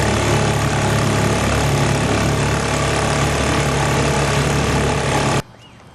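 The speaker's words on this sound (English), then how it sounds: "it's nice to have an old engine like this that runs well" A 1941 Champion antique outboard motor runs steadily at a constant, buzzing drone on a boat, then cuts off sharply near the end.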